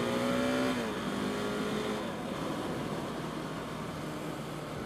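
A KTM 690 Enduro motorcycle engine pulls under steady throttle, a loud, continuous drone with a brief rising tone at the start that settles into sustained road and engine roar.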